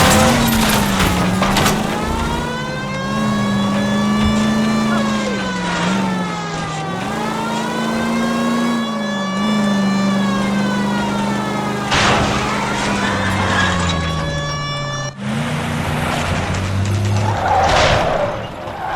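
Car chase in the video game L.A. Noire set in 1947: a loud, close engine revving and shifting pitch through the gears, with tire squeals and skidding, then a harsher burst of rushing noise near the end.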